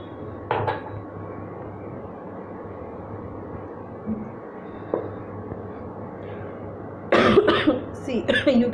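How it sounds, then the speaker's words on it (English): A few harsh coughs ring out in a home kitchen while spiced masala tea is being made with milk, one brief burst near the start and a louder cluster toward the end, over faint clinking of pots and utensils. "you can see I have this cough problem since long"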